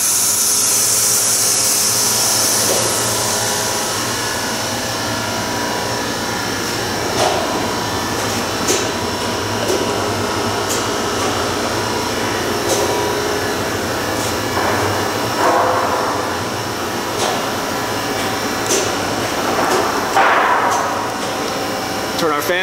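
Vacuum forming machine pulling vacuum while shaping an acrylic sign, a steady loud mechanical rush and hiss running throughout with faint clanks and shifting tones, no voices.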